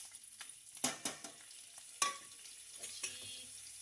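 Cumin, asafoetida, curry leaves, chopped chillies, sesame and fennel seeds sizzle and crackle in hot oil, with soft frying hiss, scattered sharp pops and a few stirring clinks, close and fairly quiet.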